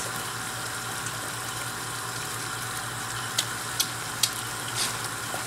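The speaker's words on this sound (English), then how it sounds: "Well, that's boiling away there." A pot of food boiling on a home stove gives a continuous loud bubbling, sizzling wash, broken by a few sharp clicks or taps near the end.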